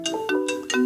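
An incoming phone call rings with a bright electronic ringtone, a few rapid repeating tones in a short bouncing pattern, close and clear with nothing else heard.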